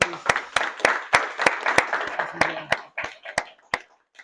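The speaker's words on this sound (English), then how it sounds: "I want to give you a round of applause." A small audience at a business networking event claps in a steady round of applause, dense overlapping hand claps with sharp individual slaps standing out, tapering off toward the end.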